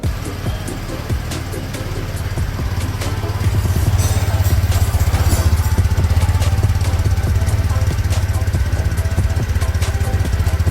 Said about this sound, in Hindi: चलिए अब आपको मैं दोनों स्कूटीज़ को स्टार्ट करके दिखाती हूँ। स्टार्ट करते हैं TVS जुपिटर के साथ।